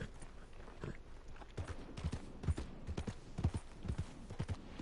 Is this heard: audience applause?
no